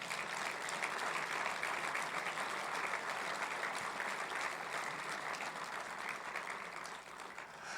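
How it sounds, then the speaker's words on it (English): A sustained round of applause from an audience at a church midweek service, steady clapping that carries on for several seconds before tapering slightly. "Please give her a round of applause."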